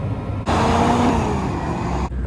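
A dump truck on a farm drives by with a loud broad engine and road roar that cuts in suddenly, holds steady with a faint rising whine, then drops away.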